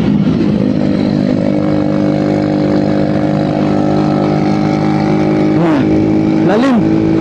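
A motorcycle engine drones loudly and steadily while riding through a curve, with two sharp rev swells near the end.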